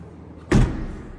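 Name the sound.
door of 1959 Hillman Husky closed firmly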